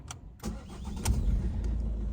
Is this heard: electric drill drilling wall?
no